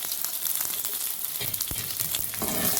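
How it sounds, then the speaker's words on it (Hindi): Thick-cut onions sizzle and fry in leftover oil, a steady close crackle with a few scraping stirs of the spatula and no talking. "अब इस बचे हुए ऑयल में हम डालेंगे ये मोटे मोटे प्याज"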